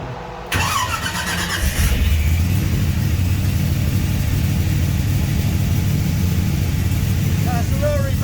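A Procharged Chevy C10 engine cranks and catches, then settles into a loud, steady running rumble with a faint squeal near the end, and a voice is briefly heard over it.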